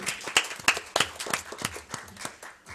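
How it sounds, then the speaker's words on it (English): An audience claps for a speaker at a school event, with sharp individual hand claps in an uneven, fairly sparse rhythm that gradually thins and softens toward the end. "Let's give her a big round of applause."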